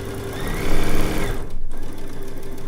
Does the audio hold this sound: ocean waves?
no